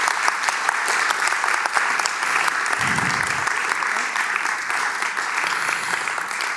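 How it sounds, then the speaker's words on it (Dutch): Loud, sustained audience applause for researchers at a Dutch panel event on slavery and the economy, dense even clapping throughout with a brief low voice murmuring beneath it midway. "Voor de paneleden een applaus voor de onderzoekers."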